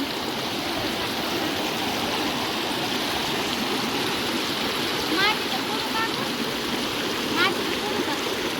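River water flows in a steady, constant rush with no breaks, filling the whole stretch at an even level, with faint chirps briefly rising above it.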